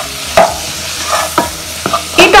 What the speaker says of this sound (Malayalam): ഇതിലേക്ക് നമ്മൾ ടൊമാറ്റോ അരിഞ്ഞത് ഇട്ട് കൊടുക്കാം